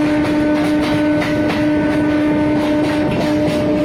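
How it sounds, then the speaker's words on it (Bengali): An Indian suburban train on the Sealdah–Kalyani Simanta line pulls out of Shyamnagar station, a steady loud rumble of wheels and carriage noise with a sustained tonal hum, close and continuous, no voices. "আর আমাদের ট্রেন এখন শ্যামনগর স্টেশন থেকে ছাড়লো"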